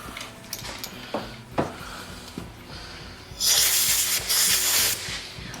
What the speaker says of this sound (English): Always blow the chips out.